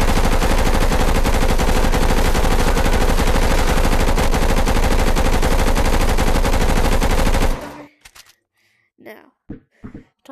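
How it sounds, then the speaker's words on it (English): An SMG fires a long, rapid continuous burst of gunshots at close range, loud and sustained for several seconds, then stops abruptly, leaving a few faint clicks and handling sounds. "I'm gonna show you how to shoot this SMG here"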